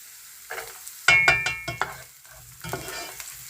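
Carrots tossed into a hot frying pan with spring onions and stirred, giving bursts of scraping and clatter over a steady sizzle, with a few separate stirring strokes near at hand.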